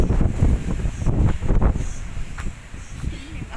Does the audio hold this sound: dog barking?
no